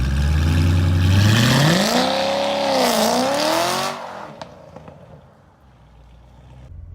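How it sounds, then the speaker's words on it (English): A Chevrolet C7 Corvette launches hard in sport mode on a poor surface, its engine roaring loudly as revs climb and waver with tires spinning, then the sound cuts off and fades, leaving faint ticks and quiet ambience. "Now I'm gonna launch it and show you how I usually launch it."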